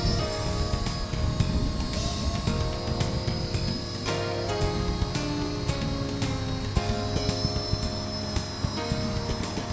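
A Blade SR radio-controlled helicopter hovers in a front yard, its small motor and rotor blades giving a steady, continuous whine and buzz at close range throughout, with no talking.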